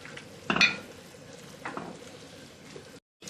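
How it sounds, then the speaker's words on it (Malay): Sliced corn gets stirred into soft sago pudding in a pot, giving a couple of wet scraping swishes with a clink of the utensil, then a quiet pause. "Kita terus masuk jagung yang kita dah iris tadi tu. Kacau, dari campur."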